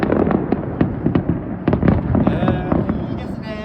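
New Year's Eve fireworks over Yokohama's Osanbashi pier burst in a rapid run of loud crackling bangs and pops, close and continuous, with faint voices underneath.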